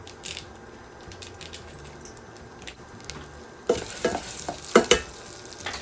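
Rice and broken pasta browning in a pan for a homemade rice-and-vermicelli dish, a soft sizzle that grows louder near the end with brisk stirring scrapes and clinks of the utensil.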